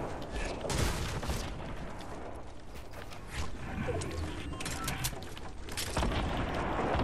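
Heavy shotgun fire in a video game booms loudly in a rapid series of sharp blasts, several overlapping with echoing rumbles and mechanical clatter, continuing through the whole stretch with no talking.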